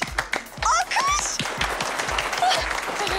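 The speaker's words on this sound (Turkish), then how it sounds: "Alkış. Alkış." A small group applauds indoors in a scripted comedy scene, a run of close hand claps with people talking over it.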